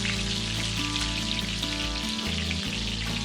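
Prawns frying in oil on a stove over a medium flame for a crispy golden prawn fry, giving a loud, dense, continuous sizzle and crackle throughout.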